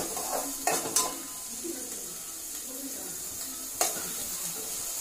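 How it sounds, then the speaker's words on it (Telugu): Onions frying in oil for a simple chicken curry, a quiet steady sizzle with a few sharp clinks of a utensil against the pan near the start and again toward the end. "ఆయిల్లో కొంచెం ఆనియన్స్ వేగించాలి కదా"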